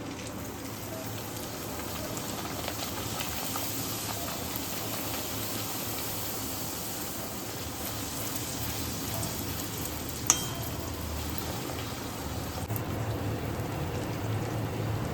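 Chhana kachori fry in hot oil until reddish, producing a dense, even hiss like steady rain with one sharp tap partway through, continuous and close, with no one speaking.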